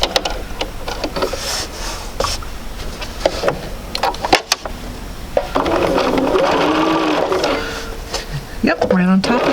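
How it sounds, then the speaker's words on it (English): A home sewing machine runs in bursts while stitching a quarter-inch quilt seam, humming steadily toward the end, with someone talking over parts of it. "we're going to sew 1/4 of an inch, 1/4 of an inch"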